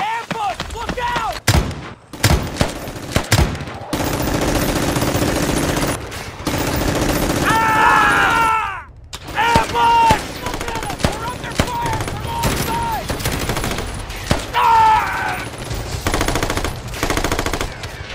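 Rapid bursts of toy-soldier gunfire crackle through a plastic army men stop-motion battle, loud and nearly continuous, with shouted voices breaking in between volleys.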